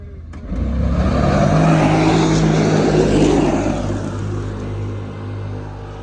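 Two side-by-sides, a 2021 Can-Am Defender XMR and a 2022 Defender Lonestar, both on 32-inch tires, one fitted with A-arms and a clutch kit, launch hard in a drag race, a loud rising engine roar that holds, then eases toward the end.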